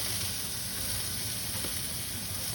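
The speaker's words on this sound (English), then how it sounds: "our sweet peppers. Give that a quick saute." Sugar snap peas and sweet peppers sauté over high heat in a hot pan, a steady, dense, loud sizzle and hiss that runs unbroken throughout.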